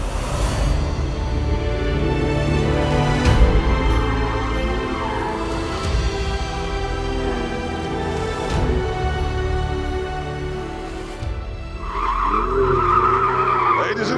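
Powerful car skidding around a corner designed for drifting, its engine roaring loudly and continuously with tires scrubbing, then the engine note shifting as the car straightens out.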